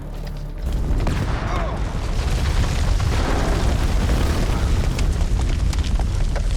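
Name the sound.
grenade explosion in the video game House of Ashes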